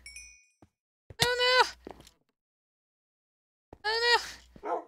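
A dog in a video game lets out two separate whining, yelping bursts a few seconds apart, close and clear, with near silence between them.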